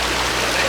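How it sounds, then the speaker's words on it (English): River water rushes steadily in a brief, close, even wash of broadband noise, swollen after heavy rain in Guyana's Kanuku Mountains. "we're back to this river now"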